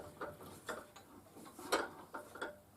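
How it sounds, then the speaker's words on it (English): A starting tap cutting threads through a steel T-nut for a rotary table fixture plate, faint rhythmic metallic clicks and scrapes repeating roughly every half second, close and with no talk. "Now I'm only using a starting tap. I'm just going all the way through with it."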